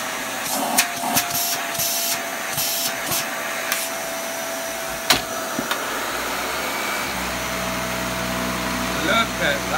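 Dyson DC75 Big Ball Cinetic vacuum cleaner switched on after repair, a steady loud motor whine with a low drone that deepens partway as suction engages, dotted with clicks and knocks, a voice talking over it.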